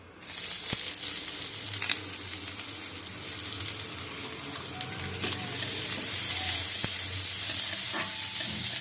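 Chopped capsicum and onion, added to garlic in a hot pan, fry with a loud, dense, continuous sizzle, plus occasional clinks and scrapes of stirring.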